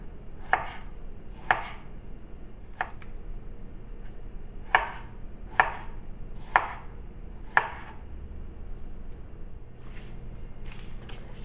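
A knife cuts through fresh strawberries on a cutting board, making a series of crisp, separate taps spaced irregularly, close and fairly quiet, with no voices.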